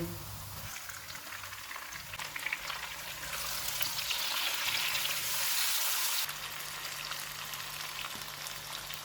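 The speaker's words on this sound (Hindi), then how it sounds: "इनमें 1 टेबलस्पून अदरक और लहसुन का पेस्ट डालेंगे और इसको 2 मिनट तक भूनेंगे।" Onions fry with ginger garlic paste and tomatoes in a pan, producing a continuous nearby sizzle that swells louder for a few seconds in the middle before settling back to a steady hiss.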